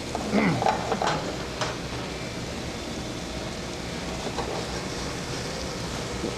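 Scallops and lobster sizzle in a hot frying pan, a steady close crackling hiss with brief louder spatters near the start, continuing evenly without talk.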